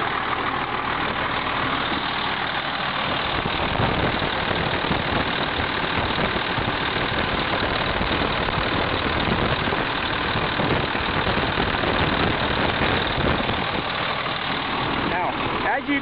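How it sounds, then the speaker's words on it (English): A 1999 IHC 8100 day cab tractor engine idles smoothly and steadily throughout, a continuous low rumble with no change in pace. "listen to that motor purr"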